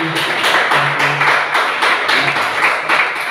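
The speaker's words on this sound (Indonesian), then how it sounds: "Aplaus dulu." A classroom audience claps steadily for a student presenter, a short even burst of applause filling the room.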